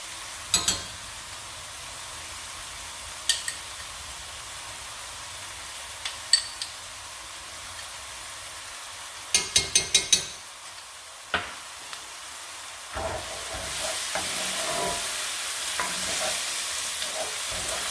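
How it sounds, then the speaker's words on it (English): Onions and garlic fry in a pan, a steady soft sizzle running throughout, broken by close clicks and scraping taps of stirring in scattered bursts, with the hiss swelling louder near the end and no voices. "fry up the onions and the garlic and then I'll cool it down"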